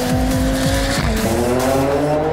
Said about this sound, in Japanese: And now, first time with the hydrogen, with the Corolla.